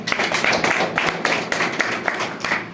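A crowd at a business motivational presentation claps loudly and steadily, a dense burst of close applause with no talking over it.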